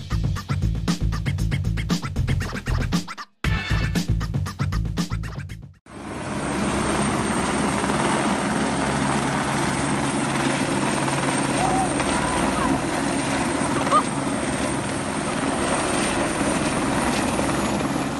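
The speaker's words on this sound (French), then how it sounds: "les hélicoptères de lutte anti-incendie ont utilisé des piscines privées pour s'approvisionner en eau" Firefighting helicopters fly low over Portugal's forest fires, a loud continuous rotor and engine roar that sets in after a few seconds of other sound and a short gap, then holds steady to the end.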